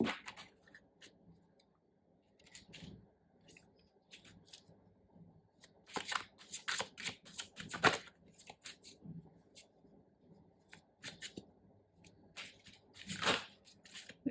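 Soft, intermittent tarot card shuffling in bursts, quiet papery riffles and slides close up, with gaps of near silence between them.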